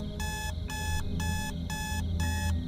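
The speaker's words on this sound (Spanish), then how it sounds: "sonó nuevamente el despertador" An alarm clock in an underground dwelling beeps in five evenly spaced bursts, each a rapid electronic trill, fairly loud over a low steady rumble.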